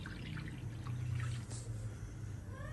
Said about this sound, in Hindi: मैं इसमें 1 कप पानी शामिल कर रहा हूँ।